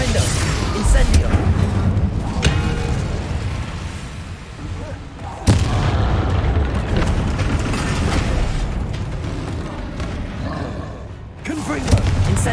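Spells cast in Hogwarts Legacy, including repulsion, blasting and fire charms, give a dense, continuous run of loud magical booms and explosive bursts over a steady combat din, with brief sharp impacts throughout.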